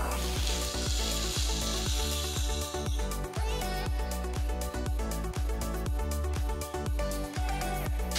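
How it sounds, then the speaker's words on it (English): Chopped tomato and ginger garlic paste fry in a pan for a paneer dish, a loud steady sizzle with rhythmic scraping or stirring strokes throughout, close up and with no talk. "Next add 1 teaspoon of ginger garlic paste. To this add 1 tomato chopped."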